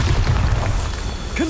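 A Bombarda spell goes off in Hogwarts Legacy as one short, deep, rumbling boom filling most of the moment, with faint game effects trailing after.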